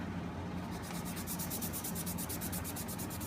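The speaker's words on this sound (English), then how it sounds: "try to scuff them with this." Hand scuffing of a rough center AC vent from a 1970–72 Chevelle, a steady close rubbing with a regular back-and-forth rhythm of bright strokes, continuous and alone.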